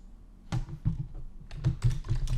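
Keys on a computer keyboard clack in short irregular bursts, close and moderately quiet, with a pause before a quicker run of taps.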